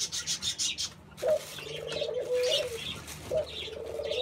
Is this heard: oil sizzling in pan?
no